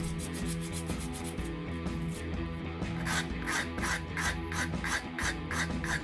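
A hand file rasps sharp edges off a steel screw made on a mini lathe, producing steady back-and-forth strokes in an even rhythm, close and alone.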